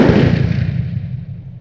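An Enfield No2 MK1 rifle fires a heavy-crimped reload: one loud, close blast that rolls into a long booming decay, with no voices over it.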